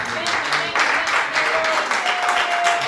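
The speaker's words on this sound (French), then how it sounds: "Encourageons tous les enfants avec des applaudissements." A church congregation applauds for the children, a steady wash of clapping from many hands with voices mixed in and a faint tone running underneath.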